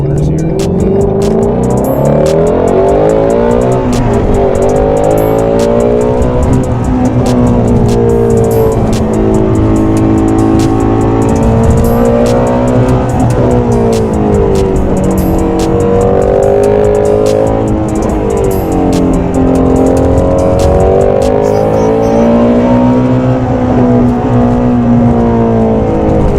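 A Ford Mustang GT350 accelerates hard through corners, its loud engine note climbing and falling in repeated sweeps as revs rise and drop, running continuously close-up from inside the car with a little talk at times.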